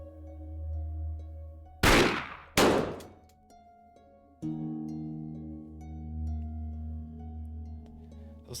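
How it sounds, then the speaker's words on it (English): Gunfire in the video game 7 Days: Origins, two sharp, loud gunshots about a second apart, each with a trailing echo, over a low ambient drone that shifts to a steadier tonal hum. "Those gunshots are completely distracting him."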